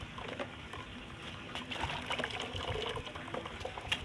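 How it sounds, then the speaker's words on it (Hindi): Water is poured bit by bit into mud, a faint continuous trickling and sloshing with small splashes close by. "तो साथ साथ आप इसमें थोड़ा थोड़ा पानी डालो।"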